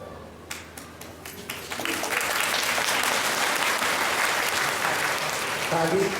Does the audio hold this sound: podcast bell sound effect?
no